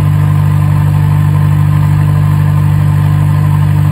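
A narrowboat's diesel engine runs again after a fuel pump repair, giving a steady, loud idling drone with strong low hum and constant vibration, no pauses.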